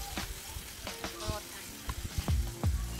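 Food grills on an IDEALIFE IL-116D electric grill and shabu-shabu steamboat while broth boils alongside, giving a soft, crackling sizzle with scattered pops, faint and close, under talk.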